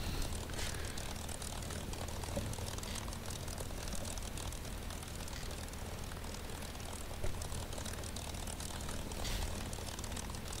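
A P-51D Mustang's propeller engine drones steadily while the plane taxis, a loud, rough continuous rumble with a broad wash of airscrew noise that barely changes in level.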